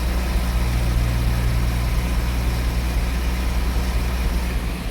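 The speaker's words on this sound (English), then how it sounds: "Right, driver's side exhaust," A Jaguar XJ-S V12 HE idles, heard close at the driver's side A-bank exhaust pipe as a steady, even low rumble with no talk.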